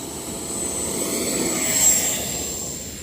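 An FMS 80mm F-86 Sabre RC jet takes off, its electric ducted-fan whine and rushing roar steady and fairly loud, swelling slightly as it climbs away.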